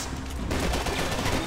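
Dense, continuous gunfire from the shooter game Max Payne 3 as shots are aimed up through a ceiling, a loud sustained volley of rapid overlapping shots filling the whole moment.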